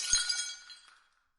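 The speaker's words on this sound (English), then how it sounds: "A lens was shattered, sending shards of glass flying into the air." A glass lens shatters in a sharp, bright crash, with a quick second clink right after and glittering shards ringing out as they fall away into silence.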